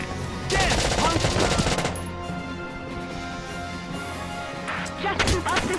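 Rapid machine-gun bursts in Valkyria Chronicles Remastered: a dense volley of close, loud shots at the start, a pause over a droning tank-like hum, then another short burst near the end.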